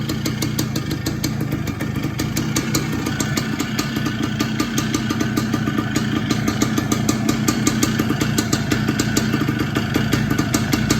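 Tri-moto 175 engine running steadily in gear, a loud close single-cylinder putter with a rapid even firing rhythm and no voices over it.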